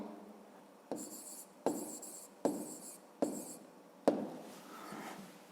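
A pen writing on paper during a maths exercise, five distinct quiet scratching strokes in an even rhythm, close and alone.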